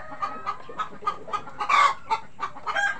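Rhode Island Red hens cluck in a coop near their laying nests, a quick series of short, close clucks with one louder squawk midway, no voices.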